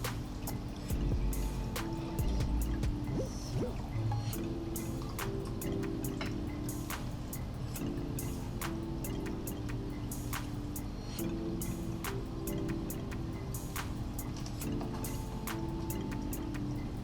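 Water is stirred up inside a snail tank, a sloshing swirl with a stream of small close drips and clicks scattered irregularly throughout, quiet and without speech.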